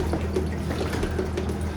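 Water flushes through a six-stage iSpring RCC7AK reverse osmosis filter system in a steady, low, close rush with a faint trickle on top and no talk.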